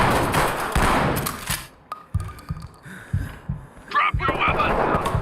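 Gunshots ring out in a video game, a series of sharp loud reports spaced irregularly through the middle, framed by busy noise and brief voices at the start and end.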